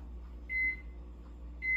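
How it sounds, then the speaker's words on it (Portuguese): A microwave oven running while heating a small bowl of gelatin softened in about three spoonfuls of water, giving a steady low hum with two brief electronic beeps standing out over it. "acrescento aqui, umas 3 colheres de sopa de água e coloca no micro-ondas"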